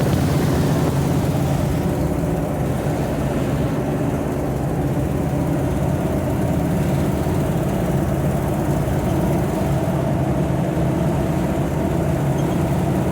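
An old Ford Bronco drives a forest trail in Talladega National Forest, its steady engine rumble and rolling drivetrain noise continuous and fairly loud throughout, with no talking.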